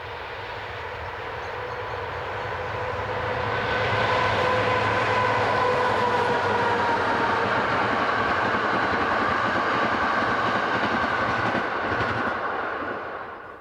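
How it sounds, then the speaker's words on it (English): CFL locomotive 3602 hauling a train toward Luxembourg City through open countryside, a steady loud rumble and drone that swells as it passes close and holds for over ten seconds before easing slightly. "Here, 3602 heads for Luxembourg City."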